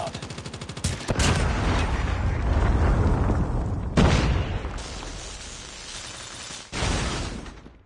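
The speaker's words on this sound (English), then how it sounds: "Be advised, hostile Predator missile inbound." A Predator missile explodes in the video game COD Mobile on the Crash map. Loud rapid gunfire and booming blasts stop abruptly several times, with short bursts of rumbling impact between them.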